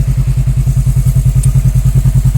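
A 2015 Honda CB500F motorcycle engine idles close by. Its even pulses thump loudly and steadily, with no voices over them.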